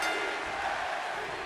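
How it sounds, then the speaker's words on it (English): A wrestling arena crowd at Full Sail in a WWE 2K NXT match roars and cheers in a continuous, dense wash of noise, loud and steady over a brief moment. "This crowd here in Full Sail is fired up as well."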